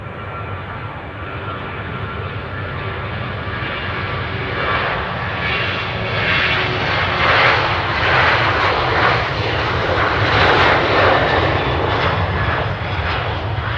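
A WestJet jet airliner departing runway 20 roars steadily on its takeoff roll, the broad engine noise swelling toward the middle and end and staying loud throughout, with no voices over it.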